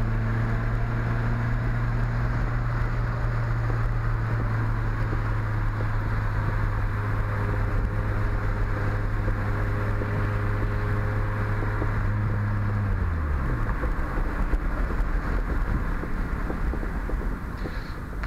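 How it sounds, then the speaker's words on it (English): A 1986 Honda CRX Si engine drones steadily while driving, its low humming tone holding level with wind and road noise, then the pitch drops away near the end. "I'll rev her up a little more"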